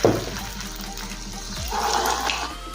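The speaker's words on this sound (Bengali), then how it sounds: "আমি একটা বড় পাত্রের মধ্যে ফুটন্ত গরম জল নিয়েছি।" Boiling hot water pouring into a large pot, heard close by as a continuous gurgling splash that settles into a steadier fill, with no one speaking.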